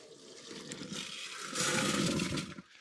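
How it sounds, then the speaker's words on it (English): Water and tumbler media are dumped from a popcorn bowl into a brass-cleaning tumbler, making a loud rushing pour with rattling grit that swells midway and then cuts off. "So I'm gonna dump this in with the water."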